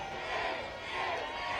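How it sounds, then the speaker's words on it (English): A stadium crowd at a women's masters ultimate frisbee gold medal game, USA vs Canada, reacts to a big-screen replay with a swelling, distant roar and cheering that rises and falls. "the crowd are reacting to that"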